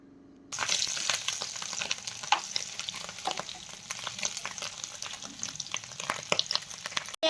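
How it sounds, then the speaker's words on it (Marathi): Paneer fries in hot oil until golden, a close, steady crackling sizzle with dense popping that starts abruptly and continues without talk. "छान खरपूस सोनेरी रंग येईपर्यंत आपल्याला पनीर तळून घ्यायचं आहे"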